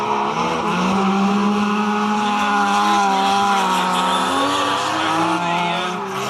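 Drift cars battle at a Japanese-car drifting event at Nissan's Sunderland plant, engines screaming and tires squealing in long, sustained slides, loud and close throughout with faint commentary beneath.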